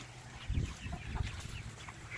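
Chickens clucking close by, a few short, soft clucks in quick succession with a low background murmur.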